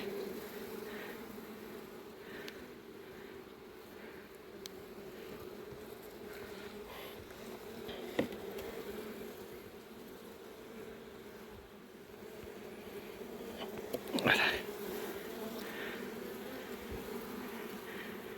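Honey bees buzz steadily around hive frames in a Carpathian apiary during the honey season, a constant low hum throughout with a brief louder pass near the end.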